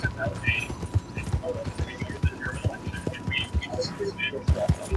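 Horse hooves clip-clop at a steady walking rhythm in Red Dead Redemption 2, close and distinct, with a low engine-like hum and faint game ambience beneath.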